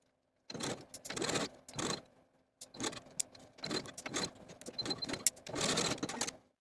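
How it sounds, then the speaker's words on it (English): A sewing machine stitches a dress sleeve placket in short bursts of whirring and rattling, stopping and starting several times with brief pauses between, close and moderately quiet. "Now sewing from the right side of the placket, sewing slowly and carefully at those 1/4 inch clippings"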